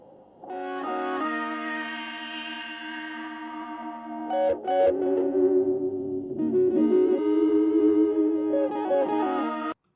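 Sustained electric guitar chords ring out heavily processed with effects, shimmering and layered, changing harmony partway through before stopping abruptly.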